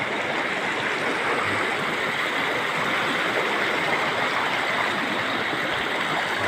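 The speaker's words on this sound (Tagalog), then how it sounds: "Diri ani nga tubig." Stream water flows steadily outdoors in a natural setting, a continuous broadband rush and gurgle that stays even and fairly loud throughout with no voices.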